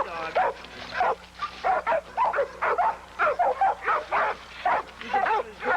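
A pit bull at a kennel barks and yips repeatedly at close range in short, rhythmic bursts with whiny tones between them.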